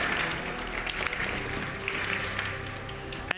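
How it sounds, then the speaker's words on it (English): An audience at a Pokémon trading card game regional championship in Stuttgart applauds the tournament runner-up, steady crowd clapping heard from a distance, with a few sharper claps standing out, running throughout. "a big round of applause for our runner-up, Ivan!"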